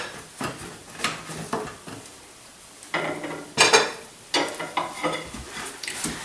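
A spatula scrapes and taps against a pan while lifting out oven-baked tilapia, giving a series of close metallic scrapes and clinks with brief pauses between them.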